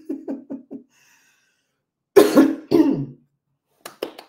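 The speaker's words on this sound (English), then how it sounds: "Can't seem to clear my throat this morning." A person coughing and clearing their throat in the morning: a quick run of four short, soft coughs, a pause, then two louder, rougher throat-clearing bursts, and a couple of faint final coughs, close to the microphone.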